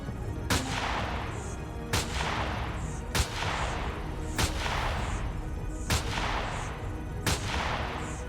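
Automated turrets in the space survival game Empyrion Galactic Survival fire six heavy, evenly spaced shots about every second and a half, each a sharp crack trailing into a rumbling decay over steady low background noise.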